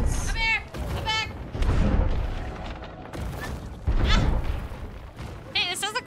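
Cannon fire in the pirate video game Sea of Thieves, several heavy booms spread across the scene, mixed with game noise and people talking over it.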